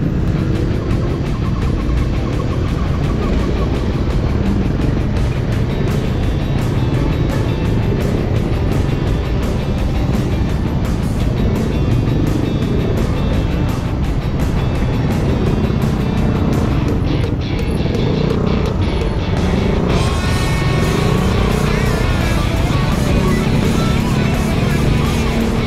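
Road traffic during a night ride through Timberland, a constant loud rush of passing engines and tire noise with wind buffeting, unbroken for the whole stretch.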